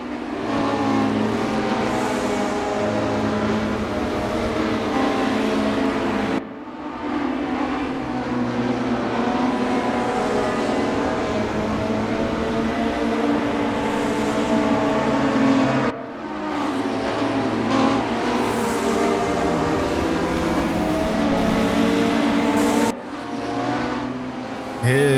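In the Raceroom racing game at Brands Hatch, a late-1990s Volvo S40 Super Touring car roars from the onboard view. The engine revs high and pulls hard, with repeated gearshift cuts and loud, continuous acceleration throughout.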